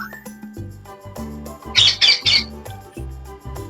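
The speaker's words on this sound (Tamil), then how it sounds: "கிளிய பாருங்க எவ்வளோ இருக்குன்னு" Parrots squawk in a rooftop kitchen garden, three loud harsh calls bunched close together near the middle, over a soft background of clattering and shuffling.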